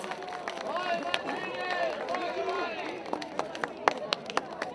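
A concert audience at a town-hall-organized show in Valea Lupului applauds to welcome a singer, with scattered claps and crowd babble beneath a prominent voice.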